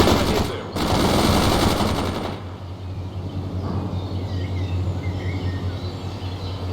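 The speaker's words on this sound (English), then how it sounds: "Fires a machine gun." Machine gun fire in the World in Conflict war game: a loud sustained burst of rapid automatic fire for about two seconds near the start, then quieter battle rumble and low engine drone continuing beneath.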